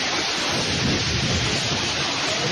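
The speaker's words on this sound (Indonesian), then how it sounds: "Hujan deras disertai angin kencang terjang Purbalingga, Jawa Tengah" Heavy rain with strong wind and thunder in Purbalingga, Central Java: a dense, steady roar of downpour and wind, with low thunder rumbling underneath throughout.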